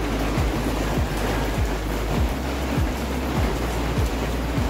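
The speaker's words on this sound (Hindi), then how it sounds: "यहाँ पे काफी तेज बारिश हो रही है" Heavy rain pours down in Pakistan as a constant, loud hiss, with faint rhythmic low thumps repeating beneath it.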